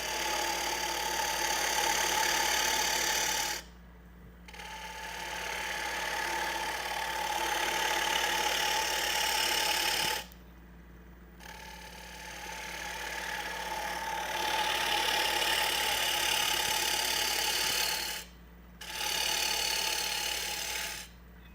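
A half-inch gouge cuts a live edge wood bowl on a lathe, giving a continuous rough scraping hiss over the lathe's steady motor hum. It breaks off briefly three times, and the motor keeps running through each pause.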